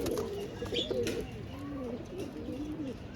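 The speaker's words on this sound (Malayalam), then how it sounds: "ഇവരൊക്കെയാണ് കൊടുക്കാനുള്ള പ്രാവുകൾ" Soft, low pigeon cooing repeats in gentle warbling phrases against a steady background hiss, with a faint chirp near the start.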